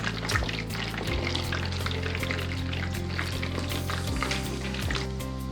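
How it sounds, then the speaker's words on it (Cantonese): Lion's head meatballs deep-fry in hot oil on an induction cooker, a dense, steady crackle and bubbling sizzle with occasional sharper pops and no voices. "獅子頭7星半月啦，放咗落去炸，大家都見到啦，佢不斷喺度滾緊"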